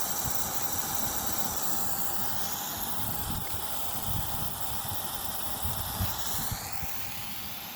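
A Weathermatic Turbo 3 sprinkler head, one of the original units in a home lawn system, sprays water with a steady close hiss and a low rumbling flutter throughout.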